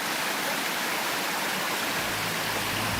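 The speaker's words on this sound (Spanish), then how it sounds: "la calidad del agua que provee esta vertiente" Water from a spring in a native forest in south-central Chile, rushing steadily as a dense, continuous splashing wash, loud and near with no voices.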